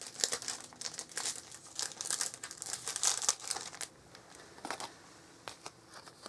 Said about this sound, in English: so sorry about the rustling